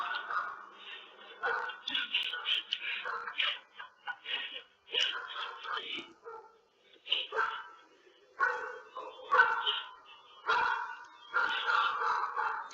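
Several dogs bark repeatedly in quick, uneven bursts, with occasional yips and whimpers, caught fairly faint and distant on a doorbell camera.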